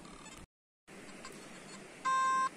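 Metal detector sounding a steady electronic tone during coin hunting in a field, a short sustained beep lasting under half a second over low outdoor background noise.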